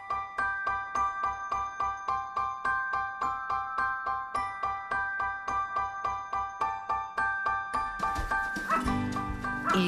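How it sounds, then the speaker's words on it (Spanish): Nordic sled dogs of several breeds, including Siberian huskies and Alaskan malamutes, bark in a kennel in Lapland, with rapid repeated barks in a steady rhythm that turn into a louder, denser chorus near the end. "La perrera está compuesta por distintas razas de perros nórdicos"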